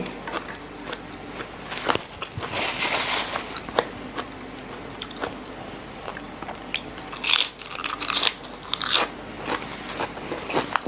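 Someone eats raw beef liver with chili up close, with wet, crunchy bites and chewing coming in irregular bursts and short pauses, and no talking.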